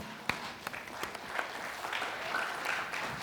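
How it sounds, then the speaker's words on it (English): An audience applauds panelists being introduced at a panel event: a steady wash of clapping at moderate volume with a few sharper individual claps near the start. "Let's give them a round of applause."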